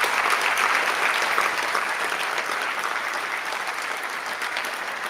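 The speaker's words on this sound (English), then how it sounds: "can we just have a round of applause for both of our esteemed guests this afternoon?" Steady, dense applause from a large lecture audience fills the whole stretch, even and sustained without pause.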